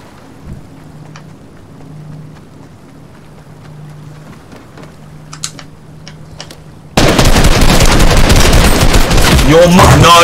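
Fortnite gunfire bursts in suddenly after quiet game ambience with a few clicks, a loud dense barrage of rapid shots and impacts filling the last few seconds.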